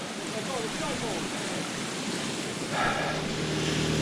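Lightspout Waterfall rushes with a steady broadband roar, fairly close and continuous, while a person speaks briefly over it.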